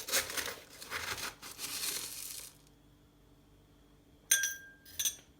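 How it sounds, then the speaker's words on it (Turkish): Loose herbal nursing tea crinkling and rustling as two heaped teaspoons are scooped into a glass, followed by two sharp clinks of the spoon against the glass after a quiet pause. "2 tatlı kaşığı tepeleme iki tatlı kaşığı bardağımıza alıyoruz"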